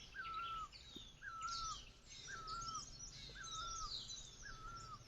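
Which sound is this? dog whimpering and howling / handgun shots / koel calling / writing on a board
koel calling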